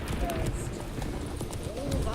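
Hooves of the horse Roach clip-clop at a gallop in The Witcher 3, a quick rhythmic patter under game voices and music, with brief snorting.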